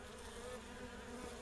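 Honeybees swarm a no-drown feeding trough of thin syrup outdoors, a dense, steady buzzing drone from many wings close by, continuous and even throughout with no talk.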